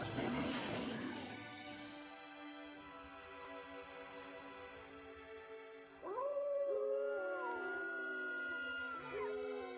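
A long, tonal howl from a creature in NieR Replicant, one sustained cry that rises into wavering, layered wails, clear and fairly close with no speech over it.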